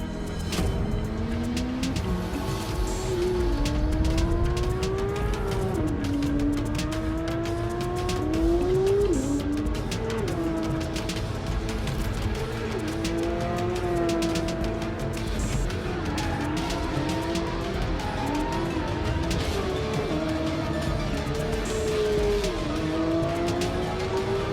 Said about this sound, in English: So let's have a look at the new Porsche 911 GT3 in action.